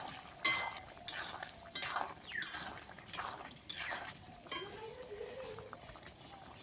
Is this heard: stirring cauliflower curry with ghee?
yes